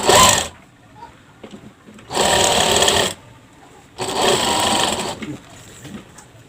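A sewing machine stitches a ruffle on a child's garment in three bursts of rapid whirring, close and loud, with short pauses between runs.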